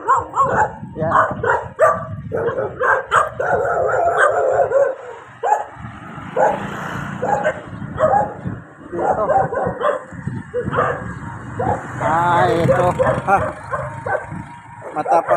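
A fierce guard dog barks repeatedly near a roadside house in a village in Silang, with loud, closely spaced barks and yips that run throughout while someone speaks over them.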